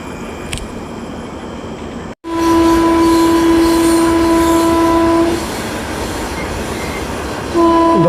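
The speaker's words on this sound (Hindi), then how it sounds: "हॉकिंग देते हुए आ रही है आनंद विहार भागलपुर गरीब रथ" The Anand Vihar–Bhagalpur Garib Rath express, running at about 130 km/h, comes through after a sudden loud onset, blasting a long, sustained horn over a heavy rushing roar, then giving one more short horn blast at the end.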